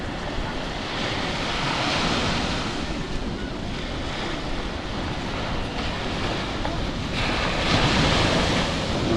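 Ocean surf breaks steadily against the shore at a traditional net-fishing spot on a day of strong waves, a broad continuous wash with wind buffeting the microphone, swelling slightly near the end, with no voices.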